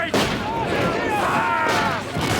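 Musket volley gunfire in a period battle scene, a sustained crackling roar of massed shots that nearly fills the clip, with a brief gap near the end before another volley.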